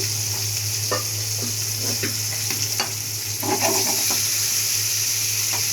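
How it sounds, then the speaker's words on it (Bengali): Fish go into hot oil and fry with a loud, steady sizzle close by, broken by a few faint clinks and scrapes of a utensil in the pan. "মাছগুলো দিয়ে দিচ্ছি"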